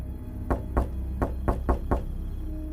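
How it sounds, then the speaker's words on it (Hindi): Six knocks on a house window at night come in quick pairs and singles, close and distinct hollow raps with no voices, set against a faint constant hum. "फिर दूसरी दस्तक हुई।"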